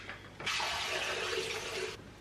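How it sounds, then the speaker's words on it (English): Tap water poured into a container to refresh dried hydrangeas, a steady broadband rush that starts abruptly, runs for about a second and a half at even strength, then cuts off, with no talking. "But first of all, I need to add some water."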